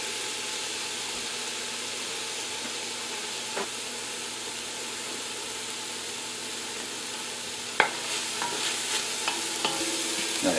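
Shallots sizzle in a pan with a steady, close frying hiss, broken by a few scraping clicks of stirring toward the end.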